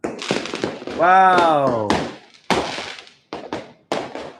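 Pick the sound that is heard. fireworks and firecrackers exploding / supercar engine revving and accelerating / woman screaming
fireworks and firecrackers exploding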